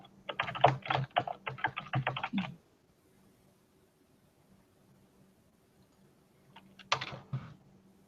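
Bursts of rapid typing on a computer keyboard, two clusters of quick clicking keystrokes separated by several seconds of near silence, close and fairly quiet with no talking.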